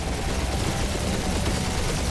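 Sustained rapid gunfire from turrets during a ship battle in Marvel's Guardians of the Galaxy, a dense, loud, continuous barrage of overlapping shots with no talk.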